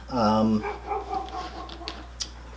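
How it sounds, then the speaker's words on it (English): A dog barks once loudly and briefly at the start, in a setting where tools are being unboxed, then the room settles into quieter background noise with small knocks and faint indistinct sounds. "Oh, Hank, don't bark at him."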